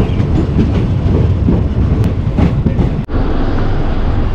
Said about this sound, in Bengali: একদম রাইট টাইমে আমাদের ট্রেন হাসিমারা পৌঁছে গেছে